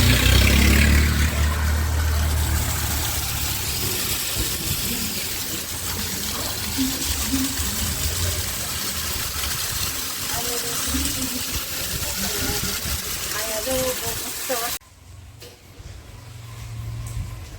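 Rainwater rushes through a residential street during a downpour, a loud steady wash of flowing water with faint voices underneath that drops away abruptly near the end.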